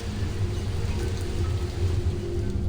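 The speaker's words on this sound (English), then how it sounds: "But the rain cleaned the stone." Steady rain falls in the video game Her Trees, a dense, even hiss of drops with a low rumble underneath, constant throughout and undisturbed by any voice.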